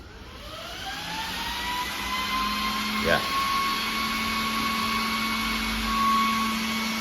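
Cooling fan of an electric hyperscooter with a tiger theme, running loudly with a steady high whir and rising tonal whine like a jet engine, close by, with a brief voice over it.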